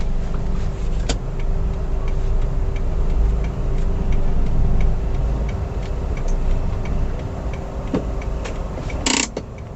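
A car pulls away gently in first gear as the clutch is eased out with light throttle, a steady low engine hum close by with faint mechanical ticking and a brief sharp click near the end.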